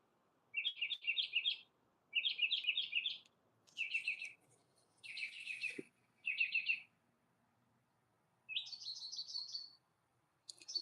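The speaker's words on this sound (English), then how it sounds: "My game suddenly had birds" Songbird chirps in a video game garden, several bright trilled bursts repeating about every second or two, clear and fairly close over a quiet background.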